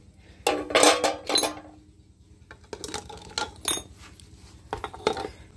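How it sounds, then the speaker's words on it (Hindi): Metal dishes, pots and cutlery are placed into a bucket for washing at a jungle farmhouse, making close clinks and clatters in several bursts separated by short pauses. "इसके अंदर रखते हैं जी बर्तन सारे धोने वाले"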